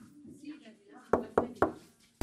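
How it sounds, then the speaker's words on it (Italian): Three sharp knocks on a door at a steady pace, with a fourth louder thump at the end, heard over murmured talk and audience noise from a TV studio comedy show. "È inutile bussare qui"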